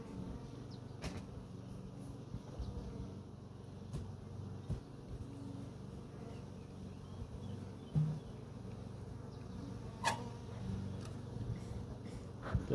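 A honeybee colony hums in a beehive, a continuous low buzz with individual bees droning close by, plus a few faint knocks and clicks of hive handling; no talk.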